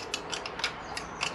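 A ratchet clicks in short bursts while fixings are loosened on a Suzuki SV1000 motorcycle's charging system, quiet and close with no voices.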